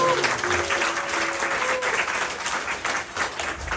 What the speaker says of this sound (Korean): 우리 강서교회 형제자매들에게 우리 감사의 박수